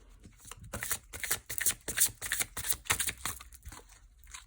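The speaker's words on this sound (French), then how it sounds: "Alors, on va piocher comme ça, celle-là, j'ai envie." Tarot cards are shuffled by hand in a soft, rapid flurry of riffling and slapping, close and fairly quiet, with no voices.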